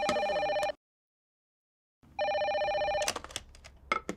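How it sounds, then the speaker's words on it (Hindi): Telephone ringing in a Hindi-dubbed South Indian thriller film, two electronic ring bursts separated by a silent pause, the second cut off by clattering handling sounds. "अरे फोन उठाओ ना।"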